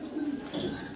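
A pair of maxi racer pigeons cooing close by, soft low throaty coos rolling in a couple of swells over about a second, fairly quiet.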